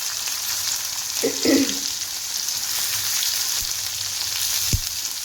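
Steady, bright sizzling of onions frying in hot oil with garlic and cumin fills the clip, with a brief stirring clatter and a sharp tap near the end.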